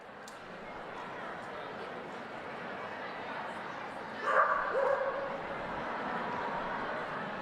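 A small dog yips and barks a few times amid the murmur of a large outdoor crowd at a papal general audience, the barks faint and distant against steady background chatter.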